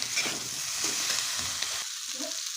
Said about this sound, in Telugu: వేసేసి ఒకసారి అయితే బాగా కలిపేద్దాం